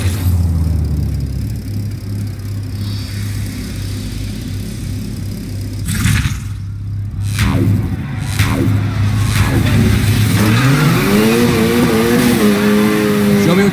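A race car in Need for Speed Heat revs and accelerates hard, its loud engine drone rising in pitch through gear changes, with a few brief voices over the roar.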